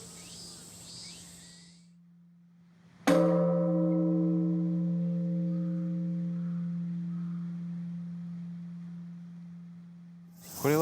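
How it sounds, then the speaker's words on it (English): An Edo-era time bell in Tokyo, once rung twelve times a day and night to mark the hours, gives a single deep struck toll with a long, slowly fading hum. It follows a short stretch of outdoor ambience, and a voice briefly returns at the end. "There's the sound of the bell."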